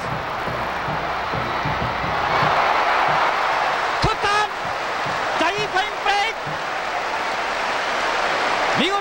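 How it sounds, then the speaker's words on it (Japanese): Crowd at Koshien stadium applauds during a spring high school baseball game, a broad rising wash of clapping under excited announcer commentary, with sharper voices and cheers over it in the middle. "大きな拍手が甲子園"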